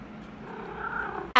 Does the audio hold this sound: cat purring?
yes